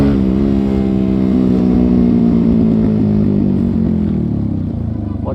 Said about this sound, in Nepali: बाइक पड्किन्छ सुन्ने